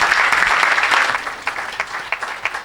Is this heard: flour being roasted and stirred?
no